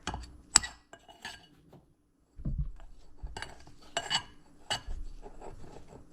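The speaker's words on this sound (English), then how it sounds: "And just keep stirring until it gets like a batter." Spoon stirring pickle batter in a bowl, scattered clinks and scrapes with quiet gaps between strokes, close and moderately loud, no talk.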